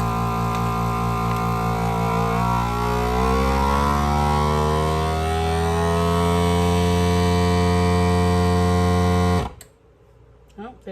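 A vacuum sealer steadily pumping air from a bag of brined corned beef, its motor hum rising in pitch as suction builds, then cutting off abruptly near the end.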